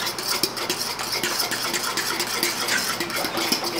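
A spoon stirs flan cake batter of chocolate mixture in a bowl, giving rapid, repetitive scraping and clinking against the bowl at close range, steady throughout with no talking.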